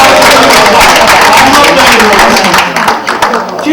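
Audience clapping during a lecture, loud continuous applause from a crowd close by, thinning slightly toward the end with voices underneath.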